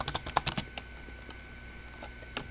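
Computer keyboard typing up close: a quick burst of crisp key clicks at the start, then a pause and a few scattered taps later.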